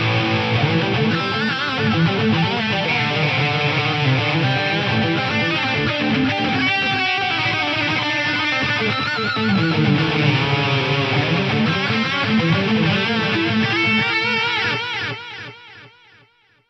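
Distorted electric guitar chords run through SDE, DiG and Rose delay pedals, strummed continuously with a thick, sustained wash that swells and then fades out in a trailing echo at the end.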